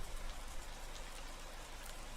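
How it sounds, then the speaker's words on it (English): Steady rain falls in a continuous, even hiss of drops on surfaces, soft and unbroken throughout, with no voices. "I don't think this rain is letting up soon"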